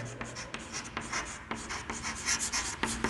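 A pen scratches out a probability formula on paper, close and steady, with short strokes broken by brief lifts and a quiet voice faintly underneath.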